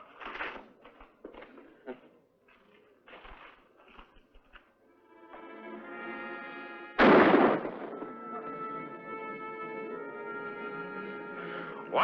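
A single loud gunshot rings out in a western shootout, followed by a long ringing tail, after sparse dialogue with people talking beforehand.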